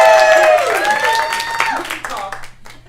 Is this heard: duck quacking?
no